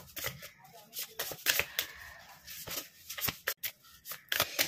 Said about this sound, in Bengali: আমি আসছি, কার্ডগুলো সাফেল করে বের করে নিই